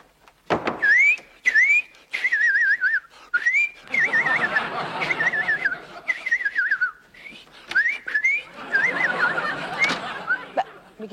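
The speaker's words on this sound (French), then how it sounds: "Mais qu'est-ce qu'il a sifflé comme ça tout d'un coup, lui?" A man whistles in a comedy series scene, a run of bright, warbling, birdlike phrases repeated in short bursts, close and fairly loud, with a little laughter and talk around them.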